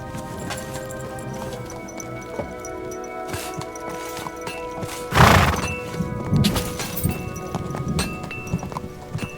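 A horse whinnies loudly midway, with clip-clopping hooves before and after against a busy background hum in Kingdom Come: Deliverance II.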